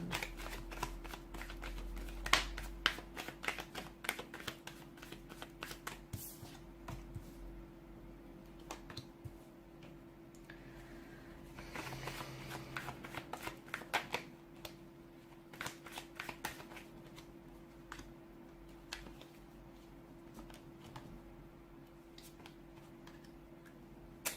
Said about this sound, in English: let's go ahead, give the cards a shuffle and begin.